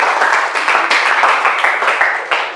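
A classroom audience gives a presenting student group a short, loud burst of clapping, many hands together, steady throughout, then tapering at the end.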